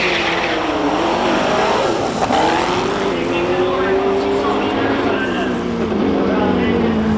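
Race cars run a hillclimb at Simola, including an Opel Record fitted with a Chevrolet engine, their engines droning and revving continuously at close range while a voice talks over them.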